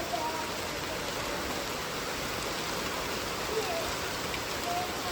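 Heavy rain falls steadily on a village in the Konkan, a dense, even hiss that runs unbroken throughout with no distinct drops or pauses.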